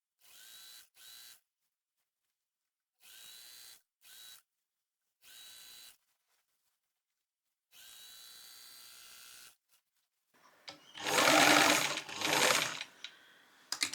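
A sewing machine stitches fabric scraps in several short, whirring bursts separated by silences, followed by a louder, noisier stretch of handling at the end.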